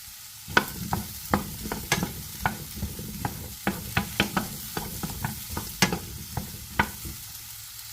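Salmon sautés in butter with mushrooms in a pan, a soft close sizzle broken by repeated sharp clacks and scrapes of a utensil stirring at an uneven rhythm.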